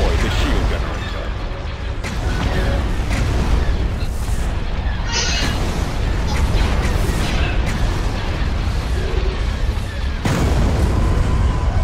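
Explosions tear through a shield generator in the strategy game Star Wars Empire at War. Heavy, continuous booming and crackling blasts go on for about twelve seconds, loud and layered, with one sharp fresh impact near the end.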